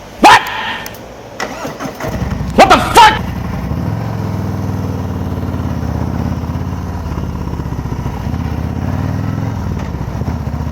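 Harley-Davidson Road King motorcycle engine: a few sharp bursts as it tries to start, then a steady, close, low idling rumble that runs to the end.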